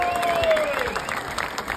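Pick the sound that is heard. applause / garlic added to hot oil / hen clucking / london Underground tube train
applause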